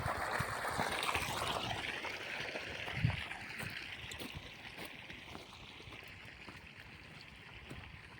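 Water from an irrigation pump on a farm rushes and gurgles steadily, close by, a continuous flowing wash that eases slightly toward the end.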